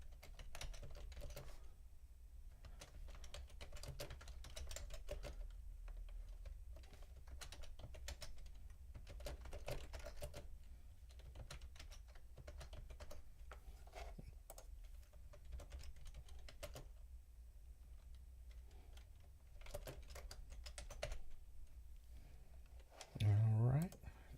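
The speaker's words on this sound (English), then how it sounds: "just typing some things out" Computer keyboard typing in bursts of rapid, close clicks with short pauses, running through the whole stretch while someone talks intermittently over it.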